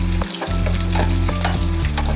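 Mustard seeds and other tempering seeds with turmeric hit hot oil for a tomato-free ivy gourd and red chilli chutney, giving a loud, steady sizzle with faint crackling pops, close up and without talk.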